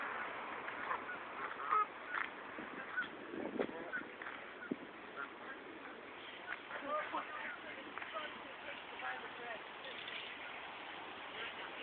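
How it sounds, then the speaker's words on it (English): A flock of geese and ducks honks and quacks outdoors, scattered calls rising over steady ambient noise, mostly at a moderate distance with occasional nearer honks. "Geese and ducks and whatever the hell else."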